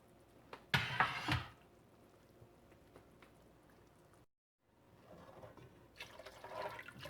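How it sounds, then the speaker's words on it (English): Four cups of water pour into a cooking pot of rice for chicken yakhni pulao, a short splashy burst near the start, then a pause and softer rushing liquid sounds toward the end. "I added 4 cups of water in here."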